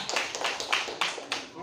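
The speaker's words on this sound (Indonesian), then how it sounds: "Ya, tepuk tangan dulu." Scattered hand claps in a classroom, a handful of sharp bursts spread across under a second and a half, fairly quiet with a roomy background.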